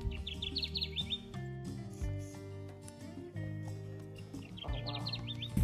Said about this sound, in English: We've had fantastic views of a singing male Kirtland's warbler here.